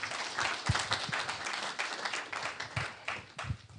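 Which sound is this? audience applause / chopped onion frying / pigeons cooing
audience applause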